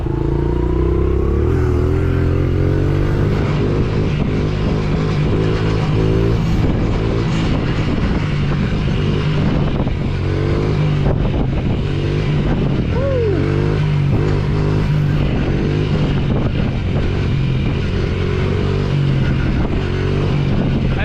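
A Honda XR70 mini motorcycle rides along dirt trails on a hot day, its small engine buzzing loudly and close while the revs rise and fall, with clattering and wind noise over it.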